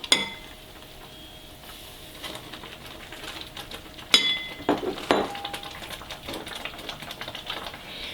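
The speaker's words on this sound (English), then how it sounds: "now that it's come to a boil, I'm going to add in the semolina or the rava" Semolina going into a boiling pan on medium heat, with light clinks and scrapes of a spoon against the pan and a couple of sharper knocks partway through, close and fairly quiet.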